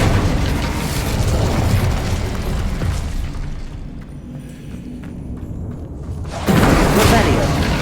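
A fiery spell blast from the Incendio charm in Hogwarts Legacy, a dense roaring burst at the start that fades into a quieter lull before a second loud whoosh of flame near the end.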